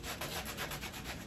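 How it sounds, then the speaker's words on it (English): A sanding block bought at Walmart rubs back and forth over a wooden hutch cabinet during a furniture makeover, giving a steady, close, continuous scratchy scrubbing with a gentle rhythmic swell. "this is just a sanding block I got at Walmart"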